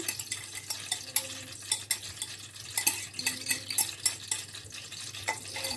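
Beaten eggs sizzle and fry in a pan with fries for an omelette, while a utensil stirs and taps against the pan in repeated close, sharp strokes over steady frying hiss.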